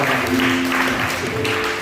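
Church congregation clapping at an Indonesian worship service, a steady wash of applause held for a couple of seconds with a faint tonal hum running underneath.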